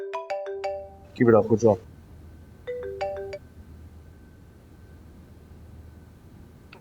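A phone ringtone plays in two short bursts of stacked electronic tones, separated by a brief exchange of speech, indoors in a quiet room.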